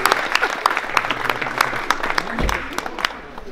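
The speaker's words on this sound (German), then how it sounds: "der Porsche hat einen Applaus verdient" A crowd claps for a Porsche GT2 RS after its engine soundcheck at the PP-Performance opening in Berlin, with brisk, scattered hand claps close by and a few voices mixed in, tapering slightly toward the end.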